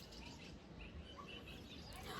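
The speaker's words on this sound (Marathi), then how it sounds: "इथे आल्यानंतर एवढा हा पक्ष्यांचा चिवचिवाट असतो ना" Birds chirp and tweet in the morning outside a home, faint and steady under a constant background hiss, with scattered small calls throughout.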